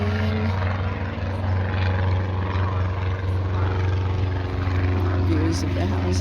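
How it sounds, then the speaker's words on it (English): Another propeller aircraft passes overhead with a steady, loud droning hum over a grassy meadow near hillside houses. "Another airplane."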